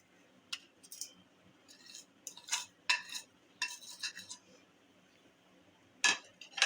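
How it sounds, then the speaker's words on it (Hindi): A spoon stirs sugar into ghee in a bowl while making nankhatai. Close, irregular clinks and scrapes against the bowl come in short bursts with quiet pauses between them, and no one speaks. "चीनी भी मिक्स कर लें।"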